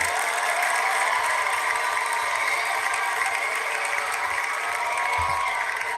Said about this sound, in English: I want to give you all guys a cheer. So let me find that big old cheer button.